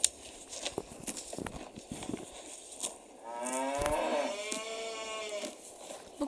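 Cows on a farm, quiet rustling and hoof clatter at first, then one cow lets out a long, close moo in the middle of the clip, followed by soft shuffling.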